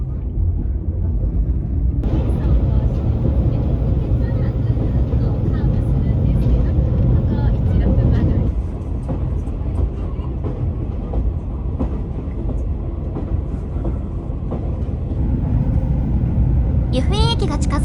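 The JR Kyushu Kanpachi Ichiroku sightseeing train rumbles steadily with a loud low drone and faint wheel clatter as it rolls toward Yufuin, with a high squeal near the end, heard from inside the train.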